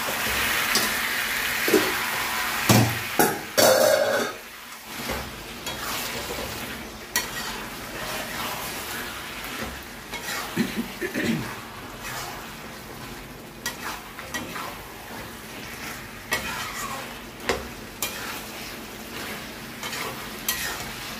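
Chicken pieces for biryani frying in spiced oil in a covered pan, lid lifted and the meat stirred, with steady sizzling, scraping spoon strokes and occasional clanks of the lid and pot.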